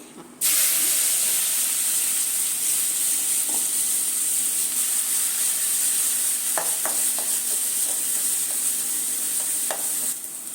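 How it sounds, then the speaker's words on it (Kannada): Two finely chopped onions frying in about three spoons of oil, a loud, steady hiss of sizzling that starts abruptly and runs on, broken by a few spoon clicks against the pan. "ಈರುಳ್ಳಿ ಚೆನ್ನಾಗಿ ಫ್ರೈ ಆಗಿದೆ"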